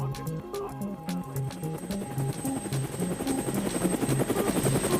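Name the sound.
helicopter sound effect, twin Huey helicopter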